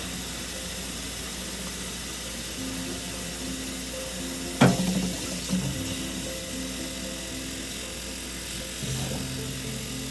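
Tap water runs steadily into the tank of a carpet cleaner held under the faucet, a constant close hiss and rumble with a brief clatter midway as the tank shifts.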